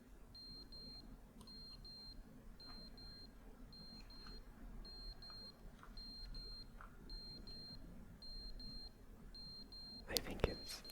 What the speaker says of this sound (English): I think it's that beeping.